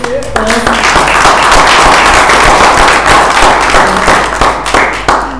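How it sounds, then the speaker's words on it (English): An audience at an international business conference bursts into a loud, dense round of applause that holds steady for several seconds before thinning slightly at the end. "Can you give a round of applause?"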